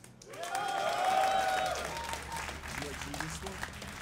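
A DreamHack tournament crowd claps and cheers loudly for a StarCraft match, the applause swelling then tapering off, with a voice speaking over it.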